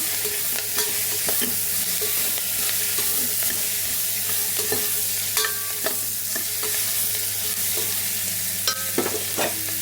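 Pieces of onion, tomato and green chili fry in hot oil, a steady close sizzle broken by scattered spatula scrapes and stirring taps.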